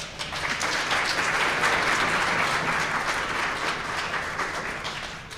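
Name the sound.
applause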